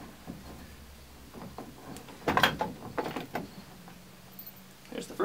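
A wrench works a 9/16 SAE bolt out of a steel roll bar, giving scattered metallic clicks and ratcheting knocks. A sharper clank sounds midway, all fairly faint and close.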